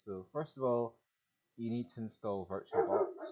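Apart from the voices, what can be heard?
dog barking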